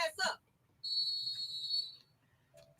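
A shrill whistle sounds in one steady blast lasting over a second. A short burst of voice comes just before it, and a faint tone follows after.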